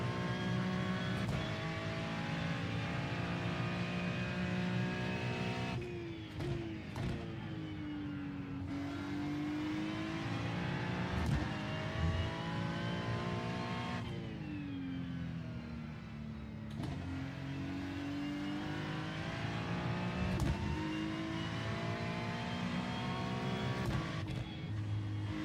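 A Ferrari GT3 race car in the iRacing simulator at Watkins Glen, its engine droning loudly and steadily with rising and falling revs and several gear shifts, close and continuous with no talk.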